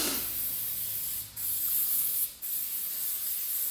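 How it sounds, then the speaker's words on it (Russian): Liquid sealant is sprayed on during cylinder head assembly of a rebuilt Kia Sportage 3 G4KD engine, a steady close hiss broken by two brief pauses, with no talking. "наносит герметик жидкий"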